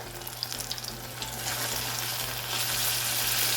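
Battered buffalo chicken pieces frying in hot oil, a few light crackles and pops at first, then a strong, steady bubbling sizzle that grows louder and fuller, close by.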